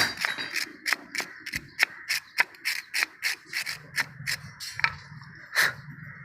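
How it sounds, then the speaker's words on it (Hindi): A wire brush scrubs a petrol-soaked spark plug in quick, regular rasping strokes, about two per second, close and fairly loud with no talking. "पेट्रोल आप डालने के बाद वायर का ब्रश मारेंगे"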